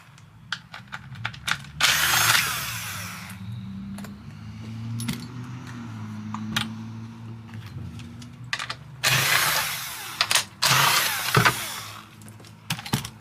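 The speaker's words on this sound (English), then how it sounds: "Let's go back to power tools." An old Husqvarna 50 chainsaw revs up in two loud bursts, separated by a low motor rumble, clicks and rattling handling noises.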